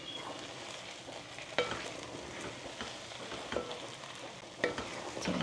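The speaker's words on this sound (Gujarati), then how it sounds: "આપણે લાપસીમાં મિક્સ કરીએ" Lapsi (cracked wheat) is stirred in a pan on a high gas flame, a quiet sizzling hiss punctuated by several distinct scraping strokes of the spoon.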